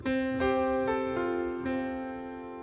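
A short piano fill: a held chord followed by four more notes placed a moment apart, ringing out and gently decaying, no voices.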